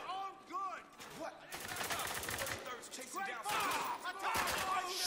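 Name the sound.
gunfire in Spec Ops The Line video game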